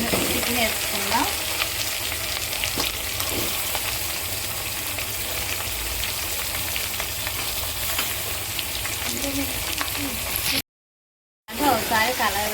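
Chicken frying in a pan with ginger garlic paste gives a steady, dense sizzle throughout, with occasional stirring scrapes, briefly cutting out near the end before resuming.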